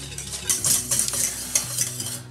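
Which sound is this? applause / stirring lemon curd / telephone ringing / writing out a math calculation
stirring lemon curd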